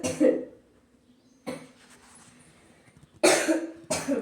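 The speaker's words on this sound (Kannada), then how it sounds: "ಕೆಮ್ಮು ಕೆಮ್ಮು ಅಂದ್ರೆ ಇಲ್ಲಿ ಕಿಟಕಿ ತೆಗಿಲಿಲ್ಲ ಅಂತಂದ್ರೆ ಘಾಟ ಒಳಗೆ" A person in a home kitchen where dosa is being made coughs from cooking fumes, several sharp separate bursts spaced across the clip with quiet gaps between them and a faint low hum underneath.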